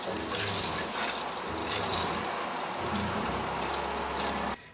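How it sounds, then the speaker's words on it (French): Water pours from shower taps with both hot and cold opened, a dense, steady gushing spray close by that cuts off abruptly at the end. "J'ai les deux robinets ouverts, l'eau chaude et l'eau froide."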